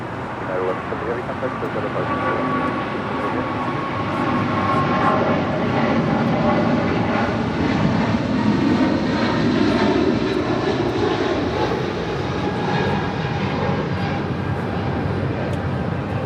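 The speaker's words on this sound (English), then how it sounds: "The 777-200ER with United headed out to Honolulu, flight 1170." A United Boeing 777-200ER jet departs LAX for Honolulu, its engines giving a sustained, powerful roar with a slowly shifting whine, loud and continuous over the whole span while people chat over it.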